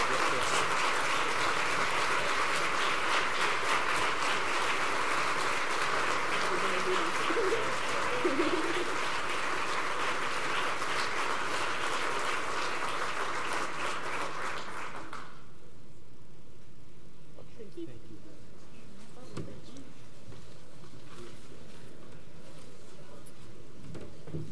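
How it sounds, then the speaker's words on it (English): An audience at an award luncheon applauds in a dense, sustained round of loud clapping that stops abruptly partway through, leaving quiet room tone. "Let's give another round of applause to Ruth"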